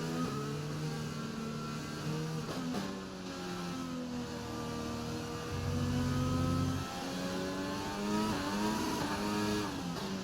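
A Formula 1 race car engine in the F1 2020 video game during a wet rain race, revving up and down in rising and falling pitch sweeps with gear changes, fairly quiet and steady with no talk.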